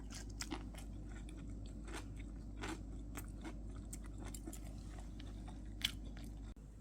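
Someone chewing gimbap, a Korean seaweed rice roll, close up, with soft repeated crunchy bites over a low steady background hum and no talking.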